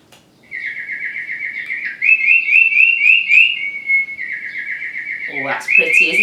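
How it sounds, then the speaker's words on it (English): A yellow canary sings alone in a bright, continuous run of trilling chirps and warbles, held close and clear, with a brief voice at the very end. "That's a bird, a yellow bird called a canary."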